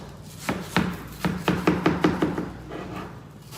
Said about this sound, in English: So I'm going to take off the rind.